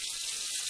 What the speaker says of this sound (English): I usually just let the hot water run.